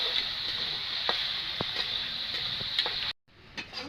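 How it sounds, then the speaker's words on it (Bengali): Meat trimmings frying in a pan in a home kitchen, giving a constant bright sizzle with scattered small pops and crackles, then a sudden brief drop before the sizzle resumes faintly. "ছাঁট বাজা চলছে এখন।"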